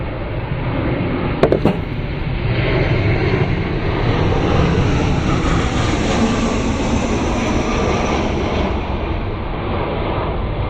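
A jet airplane passing overhead along a flight path above a backyard garden, a loud broad roar that swells and holds steady, with a few brief clinks near the start and no talking.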